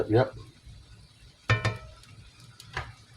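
Stirring browned ground meat in a skillet, with a few clinks and scrapes of a utensil against the pan at intervals over faint sizzling, nearby and moderately quiet.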